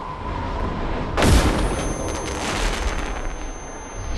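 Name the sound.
two flashbang grenades exploding in a video game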